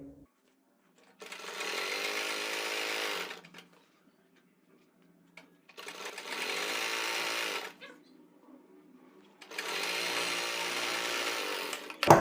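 A sewing machine stitches pintucks on a kurti in three separate runs of fast, even mechanical whirring, each lasting about two seconds with quiet pauses between.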